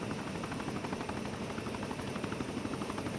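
Helicopter touching down in Arma 3 onto uneven terrain, a steady loud rotor chop and turbine whine throbbing continuously without break.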